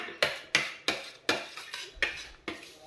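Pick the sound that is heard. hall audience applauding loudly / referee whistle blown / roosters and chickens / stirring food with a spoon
stirring food with a spoon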